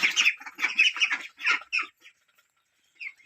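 Ducks and chickens call in a rapid burst of squawks and clucks over about two seconds, close and fairly loud, then fall quiet before one brief call near the end.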